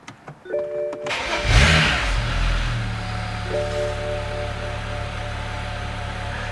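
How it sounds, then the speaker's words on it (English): A BMW with an N54 engine cranks briefly and fires up, settling into a steady, fairly loud idle close by, with a few electronic beeps from the car before and after the start. "Let's start the car up"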